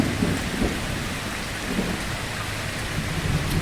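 Heavy rain pours continuously with low rumbles of thunder rolling underneath, a steady loud downpour without speech.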